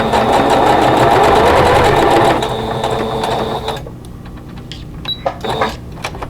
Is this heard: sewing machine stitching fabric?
yes